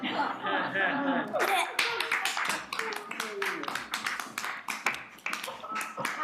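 Women in a Basel Fasnacht Schnitzelbank audience clap in a burst of sharp, dense hand claps that runs for several seconds, mixed with a little laughter and murmuring voices.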